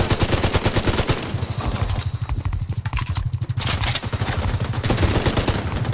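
Sustained automatic gunfire in The Division 2, loud and rapid, with rhythmic bursts of shots running almost continuously through a chaotic game battle.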